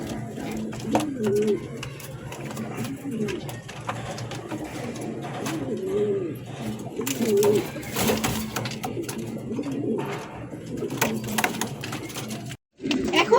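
A red king running pair of pigeons coos repeatedly at close range, with a steady background hum and some clatter and no clear talking.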